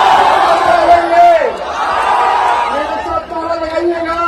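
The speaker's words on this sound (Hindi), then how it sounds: "उन्होंने जो नारेबाजी की है वो सुनिए" A large crowd at a Tejashwi Yadav political rally in Bihar chants slogans in loud, sustained unison, voices rising and falling in waves that fill the whole stretch.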